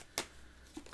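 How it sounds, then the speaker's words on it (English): A quick riffle of tarot cards gives one sharp burst, then a faint second flutter near the end, close and fairly soft. "Let me just give these a quick shuffle"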